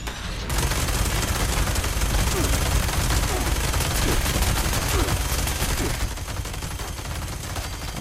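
Sustained automatic gunfire in the video game Fallout 76, a dense, loud, rapid stream of shots lasting several seconds before easing slightly near the end, with no talk over it.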